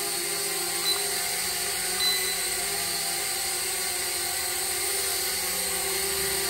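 A small SMART S105A selfie drone hovers indoors, its motors and propellers giving a steady, high, buzzing whine that holds constant from start to finish.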